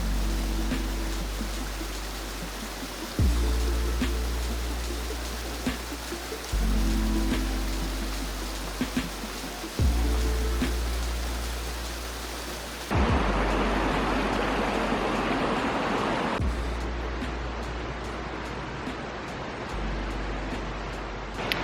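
Water rushes steadily beneath small stepping stones on a canyon trail in the Gila Mountains, a dense, continuous hiss and roar heard close up. The sound changes character a few times as the position shifts.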